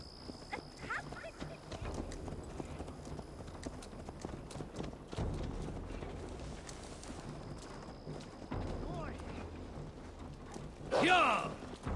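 Steady clip-clop of horse hooves in the Assassin's Creed Valhalla video game, fairly faint under game ambience, with talk over parts of it and a brief louder burst near the end.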